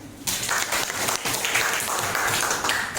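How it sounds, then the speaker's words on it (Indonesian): Classroom applause from a group of students, a burst of dense clapping that starts abruptly and continues evenly at moderate loudness. "Tepuk tangan dulu."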